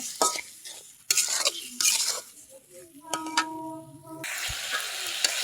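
Fish pieces seasoned with turmeric and salt are stir-fried in a pan, with bursts of sizzling and repeated metallic clinks and scrapes of a utensil against the pan, up close and uneven, and no voices.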